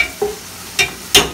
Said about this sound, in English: We're kind of scratching that pot